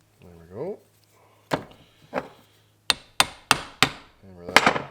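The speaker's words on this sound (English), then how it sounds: "Hammer that back a little bit." Hammer blows tap a snap ring into place on a piston during a Case David Brown 1394 engine build, sharp close metallic strikes, several in quick succession, with brief speech between them.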